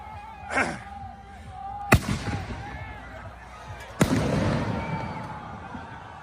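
Fireworks explode at a street protest: two sharp, loud bangs about two seconds apart, the second followed by crackling and a rumbling tail, over a murmur of distant crowd noise and a wailing tone.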